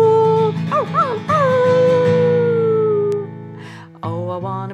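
A singer imitates a dog, giving long sliding howls and yips in a sung cover, loud and close over a steady musical accompaniment, ending with a brief warbling vocal line.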